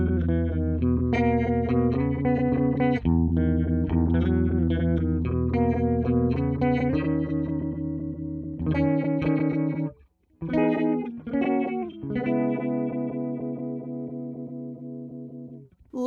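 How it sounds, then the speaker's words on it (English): An electric guitar runs through a Chroma Console phaser with drift switched on, so the phase sweep wobbles at random and sounds glitchy. Sustained chords and single notes play alone, with a brief break near the middle, then a held chord that fades. "Drift adds randomness to the phase shifting waveform, which can be fun and glitchy."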